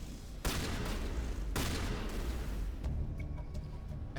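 Heavy automatic gunfire from a firefight in the Mass Effect video game, with loud dense bursts starting abruptly twice and rattling on continuously, with a few sharper cracks near the end.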